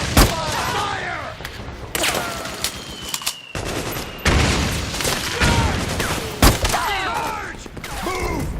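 Gunfire in a firefight from the video game Metal Gear Solid 4: rapid bursts of shots and booms, with shouted voices layered throughout the battle noise.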